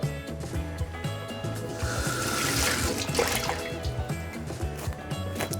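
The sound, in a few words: water running to wet a box before applying cling film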